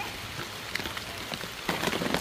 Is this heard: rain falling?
yes